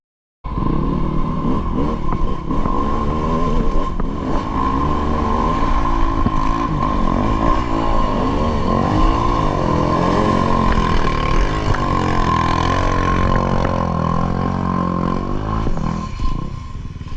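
Engine of a Kove 450 Rally motorcycle working hard on the Mill Hill single track, a loud, steady, close drone that runs unbroken for the whole stretch with no voices.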